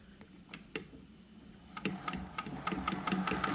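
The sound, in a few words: sewing machine sewing pre-folded binding with a binder attachment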